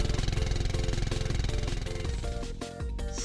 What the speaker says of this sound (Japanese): スクーター、 小型摩托、